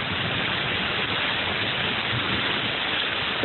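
Heavy rain falls during severe stormy weather as a dense, steady hiss that stays constant and close, with no other sounds.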